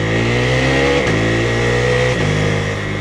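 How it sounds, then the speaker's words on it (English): A KTM 390 Adventure R motorcycle engine revs loud and close, a steady high-pitched drone broken by two quick gear shifts that briefly dip the pitch before it climbs again. "because of this cracker of an engine."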